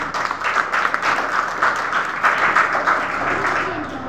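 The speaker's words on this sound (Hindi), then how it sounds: "उनके लिए तालियां।" A crowd at a school Independence Day celebration applauds soldiers, giving a steady run of dense hand clapping of fairly even loudness for about four seconds, with no speech over it.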